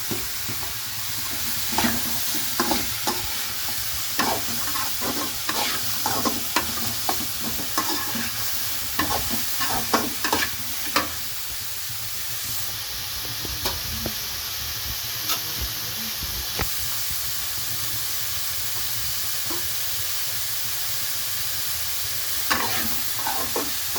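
Beans and carrots stir-fry in a pan with oil, mustard seeds, onion, chillies and tomato, giving a constant hissing sizzle broken by bursts of rapid spoon scraping and clattering against the pan, close and clear.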